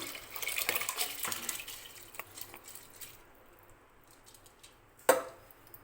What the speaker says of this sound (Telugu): గ్లాసున్నర రైస్కి అయితే 2 గ్లాసులు వాటర్ని అయితే యాడ్ చేస్తున్నాను